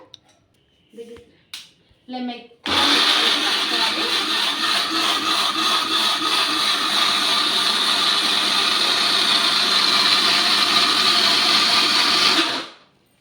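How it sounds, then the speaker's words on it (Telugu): A mixer grinder whirs loudly and steadily, grinding cooked rice into a paste, for about ten seconds after a few short clicks and bumps, then cuts off abruptly. "ఇప్పుడు దీన్ని మెత్తగా మిక్సీ అయితే పట్టేసుకుందాము"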